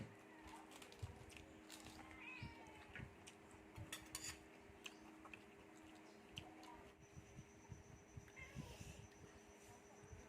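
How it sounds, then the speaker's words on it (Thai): A house cat gives a few brief, soft meows indoors among light clinks of cutlery and dishes and scattered ticking, with no one talking. "อุ้ยเจ้าเหมียว เจ้าเหมียวขึ้นไปทำไมเนี่ย"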